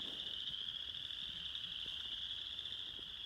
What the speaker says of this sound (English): we've got several species of frogs out here, and this is where they come and they lay their eggs